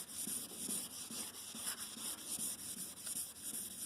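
A cloudy, yellowed headlight on a Mitsubishi EVO 8 is wet-sanded by hand with sandpaper, making a steady rhythmic scratchy rubbing that repeats in quick back-and-forth strokes, close and continuous with no talking.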